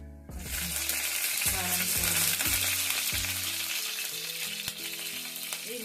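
Cumin seeds fry in hot oil with a loud, crackling sizzle that starts abruptly and holds steady, while repeated low tones beneath it sound like a burner or appliance hum.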